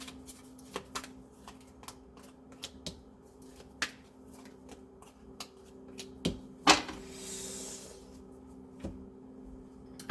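Tarot cards being shuffled, handled and laid down on a table in a quiet room, a series of soft taps and snaps ending in a brief papery riffle.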